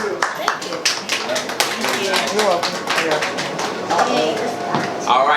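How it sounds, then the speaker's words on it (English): A room of people at a writing session claps in a round of applause, sharp individual hand claps standing out close by, with some voices and cheers mixed in as it carries on steadily. "give a round of applause"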